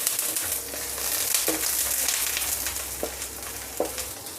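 Chicken liver and minced garlic frying in a little oil as they are stirred, a steady close sizzle with a few light scrapes and clicks of the utensil and no talking.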